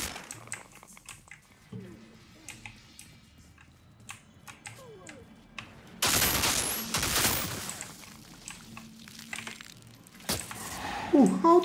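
Gunfire in the Outriders video game: a dense, loud burst of shots erupts midway and lasts about two seconds, with scattered clicks and softer game sounds around it and more sharp impacts near the end.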